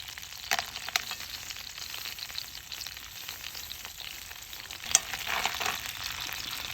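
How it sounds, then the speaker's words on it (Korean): Clams, including Manila clams and hard clams, cook over high heat at a seaside campsite, with a steady sizzle and hiss broken by occasional clinks and stirring scrapes of shells in the pan. "이렇게 조개를 좀 센 불에 해주면 더 맛있더라고요."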